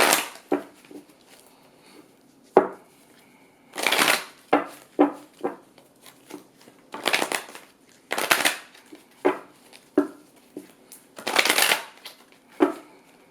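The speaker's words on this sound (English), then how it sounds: "I'm gonna shuffle my cards 7 times" Playing cards are shuffled repeatedly, sharp riffling bursts and quick slaps alternating with brief pauses, close and crisp.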